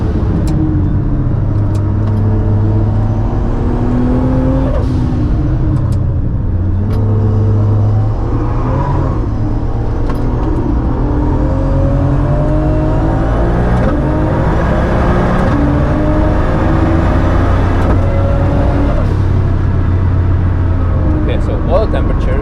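An 800hp Toyota Supra MKIV with a ZF8 gearbox swap lapping the Nürburgring: a steady, loud engine drone with shifting pitch runs throughout while a voice talks over it.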